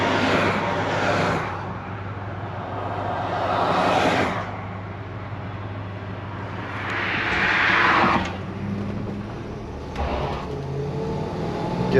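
A 1968 Plymouth Fury with a 383 V8 accelerating on a test drive, its engine swelling and easing in several loud surges as the automatic transmission shifts, over a steady low road rumble.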